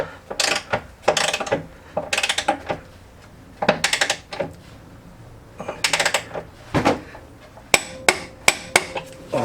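A ratchet wrench tightens the side bolts on a Peugeot 206 steering rack and subframe. It clicks in quick bursts separated by pauses, ending in a few sharper, more spaced clicks, close by and with no talking.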